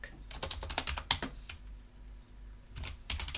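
Shell commands typed on a computer keyboard in a Linux terminal, heard as close, crisp bursts of rapid key clicks with a brief pause in the middle, no voices.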